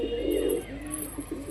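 A high flyer pigeon coos in low, throaty rolls, loudest in the first half second and then softer, repeated murmurs close by.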